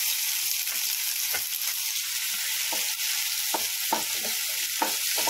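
Cumin and finely chopped onion fry in oil for pav bhaji, giving a steady close sizzle with a few light clicks of a spoon stirring through it.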